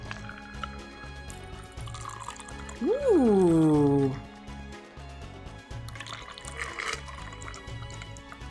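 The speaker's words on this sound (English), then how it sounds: "And then pour, shall we?" Blood and Sand cocktail poured through a strainer into a glass: one short liquid pour lasting about a second with a rising, ringing tone, over steady background sound, and a voice briefly exclaims.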